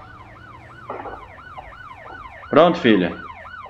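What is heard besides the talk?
police car siren, from video game Motor Town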